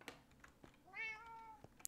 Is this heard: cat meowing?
yes